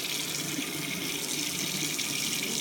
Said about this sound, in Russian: Набираем воды прохладной.